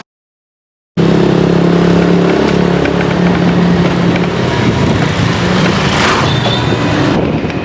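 A motorcycle engine runs loud and steady while riding on a road, with a continuous rumbling drone and wind noise after a brief silent start.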